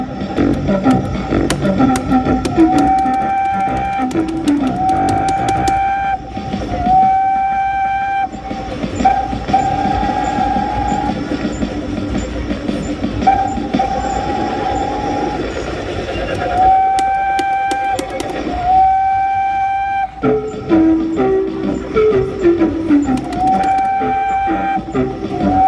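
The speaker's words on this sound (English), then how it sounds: "that was the Photo Loco kiddie ride by Amutech, sighted at Skegness Pier." A Photo Loco kiddie ride by Amutech on Skegness Pier runs with electronic train sounds, repeated horn-like whistle tones and clickety-clack effects, close and loud, while a recorded voice speaks over it.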